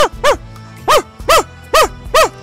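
Real dogs bark in the background in five sharp, evenly spaced barks, close and fairly loud, with a steady low hum beneath them.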